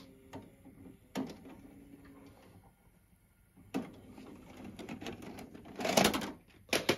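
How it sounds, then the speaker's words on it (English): A VHS tape ejecting from a twin VCR player gives a series of mechanical clunks, whirs and clicks, with a sharp click early on, a louder thump midway and a rattling burst near the end, close and unaccompanied. "So I'll now eject this media."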